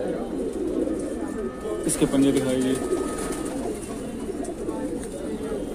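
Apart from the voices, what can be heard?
pigeons cooing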